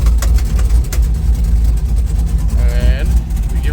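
A car engine with a slipping transmission, revved in first gear: a loud, steady low drone with a brief rising whine near the end.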